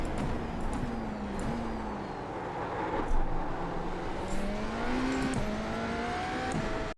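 A BMW Hybrid V8 race car in iRacing, driven at the Nurburgring Grand Prix circuit, holds a steady engine drone with rising gear pulls and several quick blips during shifts, sounding close and continuous without any talk.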